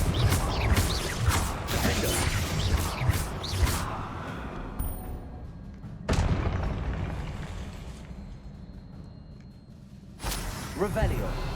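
A fire spell being cast in Hogwarts Legacy: loud booming bursts of flame with crackling fire sounds and mechanical clatter, with a sharp new burst about midway and another near the end.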